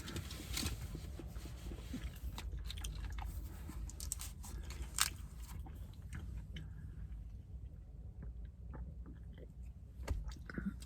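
Close, steady chewing and crunching of a McDonald's hash brown, with crisp bites standing out over continuous mouth noise and no talking.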